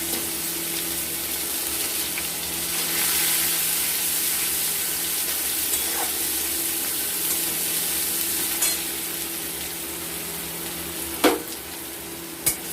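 Onion fries in hot oil with dried red chillies and whole cumin, a loud continuous sizzle with occasional stirring scrapes and a couple of sharp clicks near the end.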